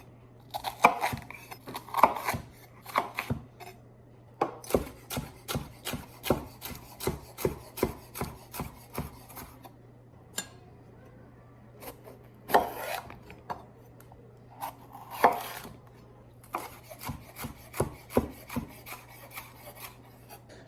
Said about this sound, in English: So let's get to dicing some vegetables.